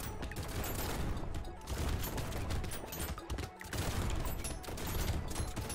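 Rapid, dense gunfire from legendary shotguns in the arena game Brotato, firing almost twice per second in a continuous, loud barrage with busy game effects layered throughout.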